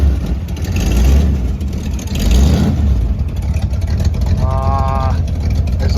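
A 1957 Chevy Bel Air engine runs nearby with a loud, rough low rumble and some surging, while a voice talks briefly over it.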